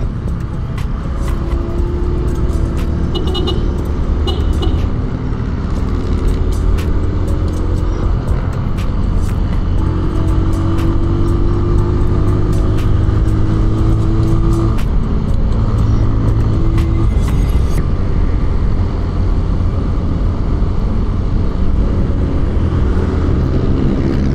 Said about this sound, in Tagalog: Napakaswabing motor nitong Cab Pro talaga yun.